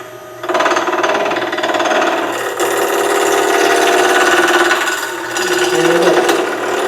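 A bowl gouge cuts wood spinning on a lathe with a loud, steady, close-up whirring scrape. The cutting noise starts abruptly and holds almost unbroken, with slight swells as the tool moves back and forth.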